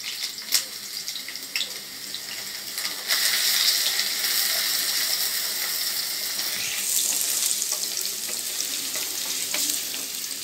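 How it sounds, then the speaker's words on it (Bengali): Onions frying in hot oil for a crispy chilli potato dish, a steady dense sizzle that grows louder and fuller partway through, close and continuous with faint occasional clicks, no talking. "পেঁয়াজটা দিয়ে দিলাম প্রথমে তেলের মধ্যে"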